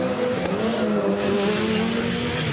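Race cars on studded tyres tearing across snow and ice at the Race of Champions in Pite Havsbad, Sweden, with a steady, loud engine drone and high revving that holds throughout, no voices over it.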